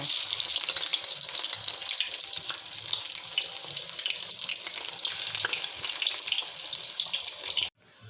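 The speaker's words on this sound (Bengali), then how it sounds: "তো বাকি সবগুলো এরকম করে ভেজে নিব" Vegetable chops deep frying in hot oil, a loud, dense, steady hissing sizzle heard close up that continues unbroken before cutting off abruptly near the end, with no talking.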